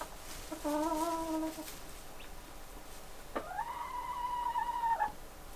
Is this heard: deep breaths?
no